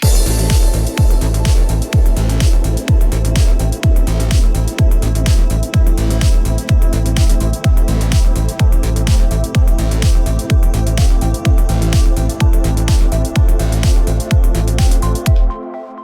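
A trance track made in FL Studio plays its first breakdown right after the intro: a loud, dense mix driven by a steady, evenly pulsing kick under layered synths, which cuts out just before the end.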